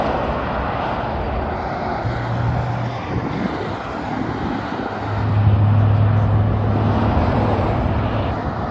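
A 2005 Ford GT passes on the A28 road during Le Mans Classic, its engine rising to a loud, steady roar through the middle and end over constant traffic noise.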